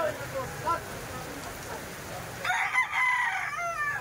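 A young stag rooster of the SBR line crows once, clear and fairly close, following a stretch of quieter farmyard background and faint chatter in a poultry sale setting.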